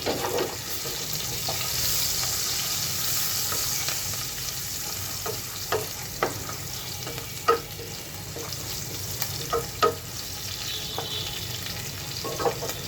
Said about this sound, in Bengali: তেলের সাথে পেঁয়াজ একটু ভেজে নিলে সুন্দর একটা ফ্লেভার আসে